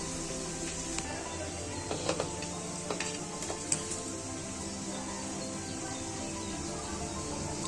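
Onions fry in a pan for a mutton biryani, giving a soft, continuous sizzle with occasional small clicks and stirring knocks, steady and close with no talking.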